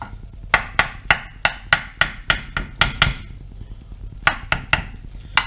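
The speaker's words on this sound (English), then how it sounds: "I'm just going to cut it up into bits" A knife chops through a cooked lasagna on a board, giving a quick series of sharp, close taps in an irregular rhythm, about fifteen strikes in five seconds.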